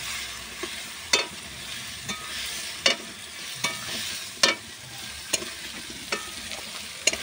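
Fish and cut potatoes fry with a steady close sizzle while a spoon scrapes and stirs the pan in sharp clacks about once a second, for a curry of shimul fish seasoned with chilli and salt.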